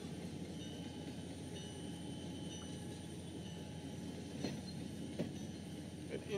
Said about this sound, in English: we're gonna back this train down the siding here